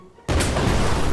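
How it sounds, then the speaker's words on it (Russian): A bomb from a mod in the video game Brick Rigs goes off, a sudden loud blast after near silence, then a sustained roaring rumble that fills the rest of the moment. "Я ее взрываю."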